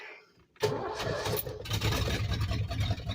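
A truck engine cranks and catches after a brief quiet, firing up loud and close, then settling into a rough, slightly uneven idle.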